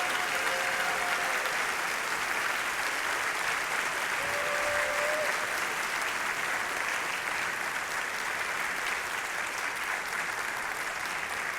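Audience at a community band tribute concert applauds steadily, a loud, sustained, even wash of clapping from a large crowd.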